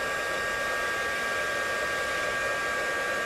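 A heat tool blows steadily to melt embossing powder on a card, heated from underneath; an even, continuous broadband whoosh with no talking.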